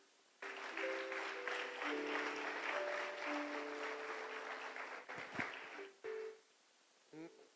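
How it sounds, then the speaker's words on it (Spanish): A church congregation claps loudly and steadily for about five seconds, with sustained musical tones held underneath, then the clapping breaks off into a few short, sharp bursts near the end. "Dale un fuerte aplauso al Señor."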